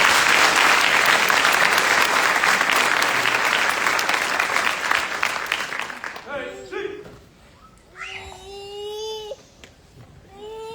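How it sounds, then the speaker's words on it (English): Loud crowd applause at a drill sergeant academy graduation ceremony, honoring the winning squad of a drill and ceremony competition; it fills the first six seconds and then fades, leaving a quieter stretch with voices. "Please join me in a round of applause for the winning squad of the drill and ceremony competition"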